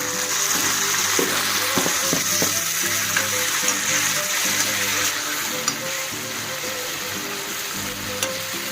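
Curry leaves, green chillies and tomato fry in a pan for a village-style mutton rassa, giving a steady, close, loud sizzle with occasional stirring clinks and no talk.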